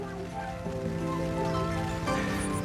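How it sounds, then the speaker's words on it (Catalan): Steady light rain falls outdoors along a roadside walk, a continuous soft patter with a low droning hum beneath it and no voices. "Torna a ploure, no és massa"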